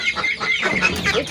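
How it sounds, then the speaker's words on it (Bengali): Village chickens kept with ducks cluck close by as they are let out of their coop, a busy run of short, overlapping clucks and squawks with no talking. "এখন আমি আমার এই হাঁস মুরগিগুলোকে ছেড়ে দিই বাইরে।"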